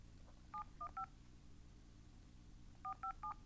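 A phone keypad beeps out DTMF tones during a call, first a quick run of three tones, then a pause and another run of three, crisp and isolated over a quiet background.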